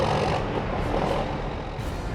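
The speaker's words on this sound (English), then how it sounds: "Start bumping the throttle up to make the winch pull harder." A rotator tow truck engine revving up to drive a winch during a cliff recovery, a loud, close, steady diesel roar that holds its level with a slight dip and rise.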